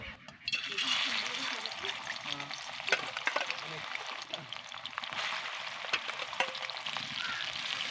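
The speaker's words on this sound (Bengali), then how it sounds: "এবার কেটে রাখা মাছগুলোকে দিয়ে দেবো সবগুলো মাছকে কিন্তু একসঙ্গে ভেজে নেব" Pieces of Shimul Kanta fish fry in hot oil with a steady close sizzle and scattered crackling pops, while a voice speaks quietly over it.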